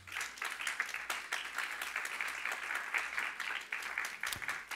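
A church congregation claps during a sermon, a steady dense round of applause running throughout at moderate loudness, with no voices on top.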